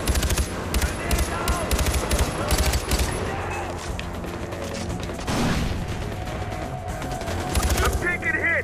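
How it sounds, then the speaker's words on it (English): Heavy gunfire rattles through a firefight in Far Cry 4: dense bursts of automatic weapons and scattered shots crackle continuously, close and loud, with a voice calling out over the shooting. "Taking heavy fire!"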